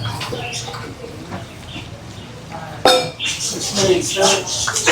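Lomi noodle soup ladled into bowls in a busy eatery in Lemery, Batangas: close clinks and clatters of ladle, bowls and pots, growing louder toward the end, with people talking nearby.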